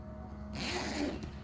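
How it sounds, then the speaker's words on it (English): Zipper on a bag being pulled open, a short quick rasping zip lasting under a second, close and clear against a quiet room. "And open the zipper like that. Open the zipper like this."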